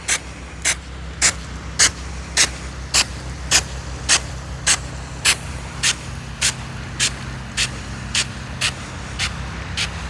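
WD-40 aerosol sprayed onto a field sprinkler head in Southwest Wisconsin, a series of about seventeen short, sharp hissing bursts at a steady rhythm over a low rumbling background.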